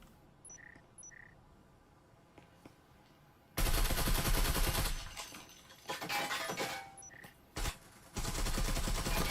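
Rifle fire bursts out in a close-quarters firefight in the VR shooter Breachers: loud, dense volleys of rapid shots with shattering impacts, broken by short pauses, after a quieter stretch with a couple of electronic beeps.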